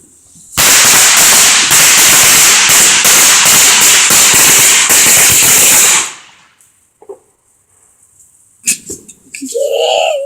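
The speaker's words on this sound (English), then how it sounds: "It's just fireworks." A long, dense string of loud firecracker bangs rattles close by for several seconds, rapid and overlapping, then cuts off, leaving quiet with a few brief voices and noises afterward.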